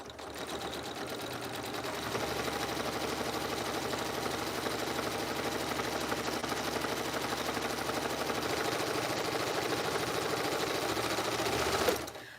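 Sewing machine stitching down a zippered pouch, a rapid steady mechanical chatter running continuously for about twelve seconds before stopping, close and alone with no voices.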